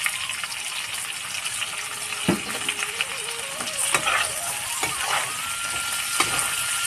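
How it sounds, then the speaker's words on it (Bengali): Cashews and chopped tomatoes fry over very low heat in a pan, giving a steady soft sizzle with a few brief clinks and scrapes of stirring throughout. "এগুলো সেদ্ধ হওয়া পর্যন্ত আমরা একে ফ্রাই করব একদম কম আঁচে।"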